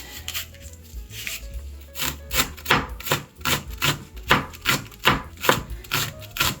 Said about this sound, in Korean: 이렇게 총총 썰어주시면 됩니다.